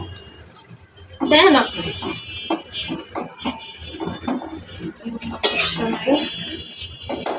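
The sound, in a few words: stirring taro stolons (loti) in a cooking pot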